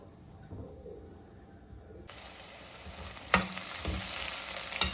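Chopped onions hit hot oil for a Rayalaseema-style kandi ginjala masala curry, breaking into a loud, steady sizzle about two seconds in after a quiet start, with a few stirring clatters over the frying.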